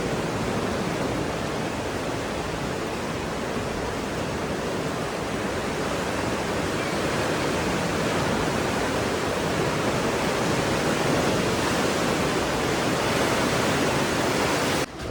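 Water pours out of rock caves at a beach in Bali as a continuous, even rushing noise that sounds fairly close and holds steady throughout, with no voices.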